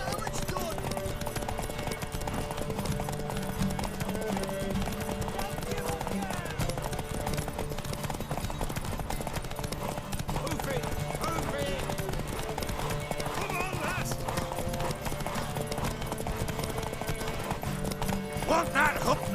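Horse hooves clip-clop steadily in the Witcher 3 game world, a continuous trotting rhythm under ongoing character dialogue with occasional whinnies.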